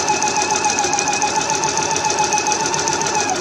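Twin-needle sewing machine hemming a medium-weight knit fabric, running slowly and steadily as it climbs over a seam allowance; a continuous close mechanical whir with a fine rapid stitching pulse, no voices.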